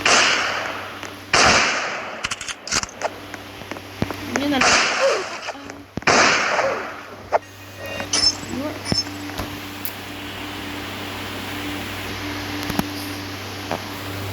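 Sharp gunshot cracks from the Roblox shooter Deadeye fire in irregular bursts, some loud and close, others fainter, over game ambience with a steady hum, while a voice talks throughout.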